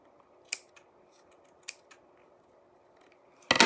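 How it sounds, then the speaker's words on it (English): Small scissors snipping fabric close to the edge of an embroidery hoop, giving two or three sharp, isolated snips in a quiet room, then a louder rustle at the end. "take your scissors, and if you have a pair of little ones, it's easier, and you're just going to go around again, super close to the edge, and just snip off those."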